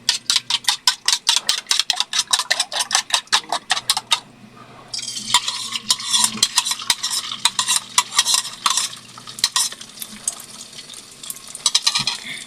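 Eggs stirred and fried in a pan for breakfast, a run of quick rhythmic scraping strokes followed by a steady bright sizzle with occasional clinks, close and moderately loud, no talking.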